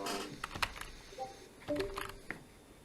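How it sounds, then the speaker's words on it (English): Quiet clicking of computer keys, a few scattered taps and short bursts rather than steady typing, with faint tonal background noise. "And there's two guys typing."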